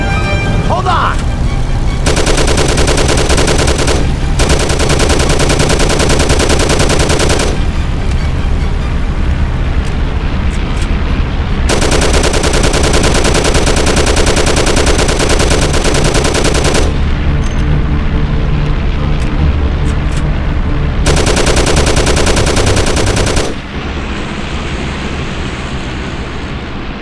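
Sustained automatic gunfire from the Mafia video game, loud and near, in long bursts broken by short pauses and layered over an engine rumble, with voices shouting beneath the shooting.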